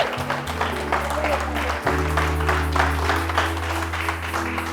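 Church congregation applauding to acclaim the Lord, sustained clapping running throughout beneath a loud voice and organ-like tones.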